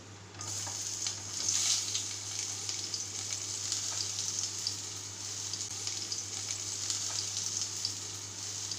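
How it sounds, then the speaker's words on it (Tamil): Onions, green chillies, curry leaves and tomato fry in a pan with a constant, even sizzle and hiss, close and steady throughout, with faint stirring touches. "வெங்காயம் நல்லா பொன்னிறமாக வதங்கணும், அது வரைக்கும் நல்லா ஃப்ரை பண்ணிக்கோங்க"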